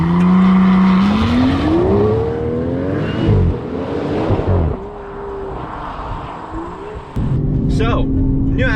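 The new Aston Martin Vanquish accelerating hard, its engine note climbing through rising revs and gear changes, loud and close, with a person's voice heard over it.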